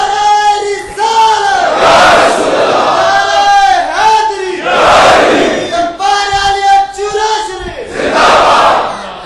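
A crowd at a religious gathering bellows back in unison to a slogan, several loud, booming chanted responses in rhythmic bursts, each answering a lead voice.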